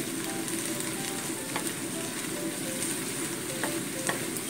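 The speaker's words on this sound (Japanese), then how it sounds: "はい、今ね、全部一緒に炒めてますよ。 中火でゆっくり炒めたいと思います。" Mixed vegetables for minestrone, salted with a teaspoon of salt, sauté together in a pan over medium heat, giving a steady, close sizzle with occasional stirring clicks and no talk.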